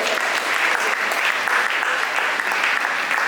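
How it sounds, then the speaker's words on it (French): A church congregation bursts into loud, sustained applause mixed with cheers, a dense steady wash of clapping that carries on without a break for several seconds. "Est-ce qu'on peut acclamer le Seigneur?"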